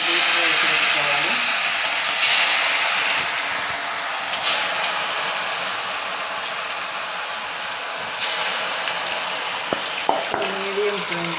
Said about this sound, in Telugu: మీడియం ఫ్లేమ్ పెట్టుకొని డీప్ ఫ్రై చేసుకోవాలి.